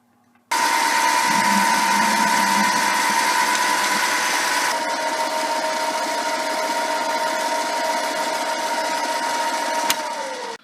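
A lathe turns steadily while the end of a rod is rounded off, a continuous close whine with a tonal hum that shifts pitch midway, running alone for about ten seconds before winding down.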